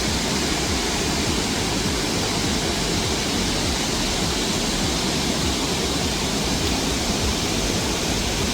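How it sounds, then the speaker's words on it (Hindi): A twin waterfall rushes in a steady, dense roar, loud and unbroken throughout with no voices. "अभी आप झरने की ध्वनि सुनिए"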